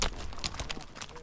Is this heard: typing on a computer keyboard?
no